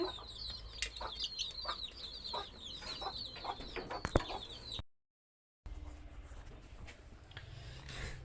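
Chicken chicks cheep in rapid, high, repeated peeps, some of the birds sick with Ranikhet disease. The calls come close and fairly loud for about five seconds, then stop in a short gap, with faint background noise and no talk.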